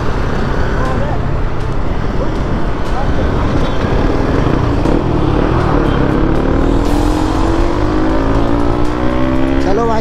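A car engine revs hard and continuously during an informal road race, loud and close with rising engine tones and road rumble, and a voice talks over it.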